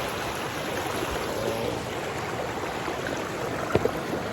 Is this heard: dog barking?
no